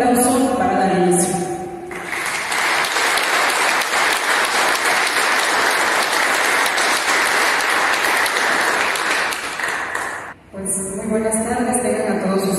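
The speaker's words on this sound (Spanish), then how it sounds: "vamos a solicitar un fuerte aplauso para dar inicio" An audience at a formal honorary ceremony breaks into strong, sustained applause for several seconds between a man's spoken announcements, the clapping dense and close before fading as speech resumes.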